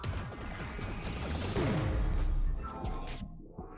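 Enemy fire in the PC roguelike ScourgeBringer: a dense, continuous barrage of rapid blasts and crashing impacts, loud and close, with a descending sweep partway through before it cuts off abruptly.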